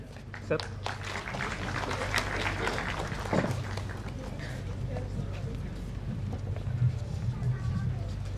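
Applause from an audience at a mayor's award ceremony for school education officials, a steady spread of clapping under a low hum, with a voice speaking over it.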